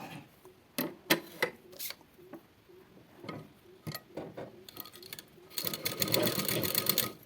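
A sewing machine stitches piping around a garment neckline in short bursts of quick ticking, soft and close, ending in a longer steady run of stitching.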